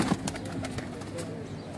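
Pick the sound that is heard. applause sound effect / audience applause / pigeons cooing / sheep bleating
pigeons cooing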